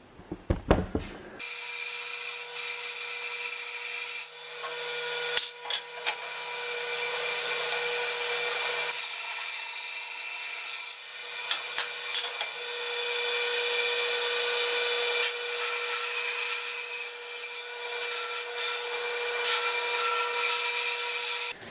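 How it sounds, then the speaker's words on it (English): Jigsaw cutting a wooden router lift template, a steady high buzzing saw drone that starts abruptly and runs continuously with small fluctuations, close and loud, no talking. "now I'm going to take it over the jigsaw and I'm going to cut this out"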